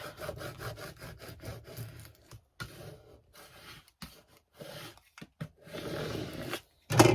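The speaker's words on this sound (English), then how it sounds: "Burnish it down." Vinyl decal is burnished onto a door hanger with quiet, close scraping and rubbing strokes in short irregular bursts, ending in a brief louder scrape.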